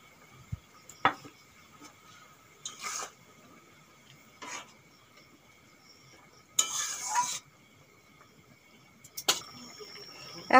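Fried prawns and slit green chillies dropped into a pan for chingri kochur lati, with a few faint clinks of utensil against pan followed by short bursts of quiet sizzling and stirring, spaced out over a mostly quiet kitchen background.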